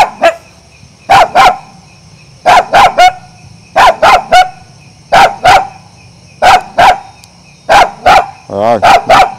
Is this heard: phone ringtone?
no